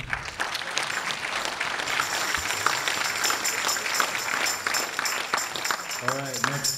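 Audience applause fills a Martin Luther King Jr. celebration in Davis, steady dense clapping throughout, with a voice starting to speak near the end.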